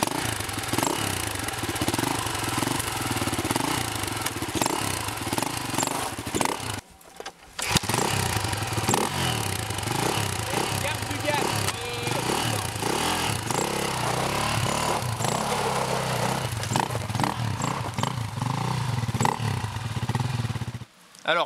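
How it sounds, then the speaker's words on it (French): An enduro motorcycle engine is started with the electric starter and then runs loud and close, a rough, steady buzzing drone that drops out briefly before roaring back on and continuing to the end. "on peut appuyer sur le démarreur pour redémarrer la moto"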